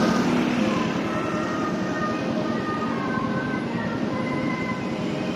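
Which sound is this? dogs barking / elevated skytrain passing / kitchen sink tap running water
elevated skytrain passing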